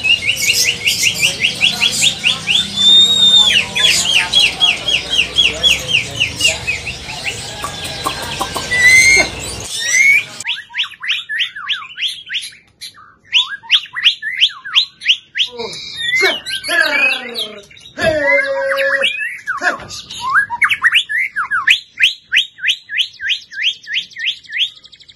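A white-rumped shama sings loud and close, repeating bright, varied whistled phrases, first over a rough buzzing background and then alone.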